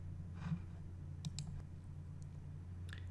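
A computer mouse clicks on a Save and Next button, a few faint, sharp clicks spaced apart over a low, steady electrical hum in a quiet room.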